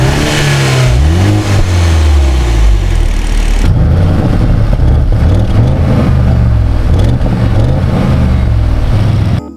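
Car engine revving in the racing game Racing Master, with sound recorded from real cars: loud, continuous engine roar rising and falling through repeated throttle sweeps and gear changes, no talk over it.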